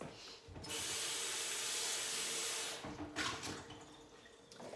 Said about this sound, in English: Well, I gotta rinse this.